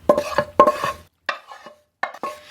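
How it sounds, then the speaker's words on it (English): A spoon scrapes and stirs sauteed vegetables through a keto tuna casserole mixture in a pan, several close, clattering bursts separated by short pauses. "So I'm just stirring everything around to combine it"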